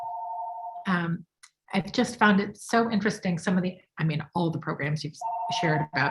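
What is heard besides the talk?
phone ringing in the background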